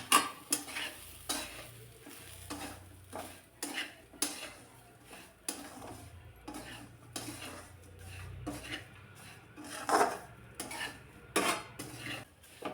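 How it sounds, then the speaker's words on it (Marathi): Dry semolina (rava) roasting in a pan, stirred with a spoon in a steady rhythm of scraping strokes and metallic taps against the pan, fairly close, with no voices. "लालसर कलर येईपर्यंत रवा चांगला भाजून घ्यायचा आहे"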